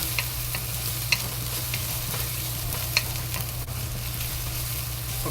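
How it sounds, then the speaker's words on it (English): Steady sizzle of carrots slowly frying with scallion and ginger in a pan for Harbin-style guobao rou, a continuous hiss with a couple of faint scrapes from stirring, close up and without speech. "Carrots, we add half. And slowly fry until they release good smell."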